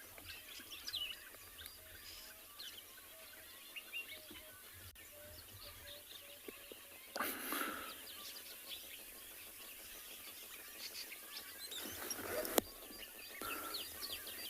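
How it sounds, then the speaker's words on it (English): Birdsong at a watering hole on a South African morning safari, where white-breasted cormorants call among other birds: scattered faint chirps and calls at a distance over a low, steady outdoor background. "You can hear the white-breasted cormorants as well."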